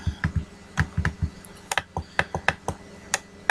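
Sharp computer clicks come close and crisp while World of Warcraft is played. There are about fifteen of them in uneven bursts, some in quick pairs, with no talk.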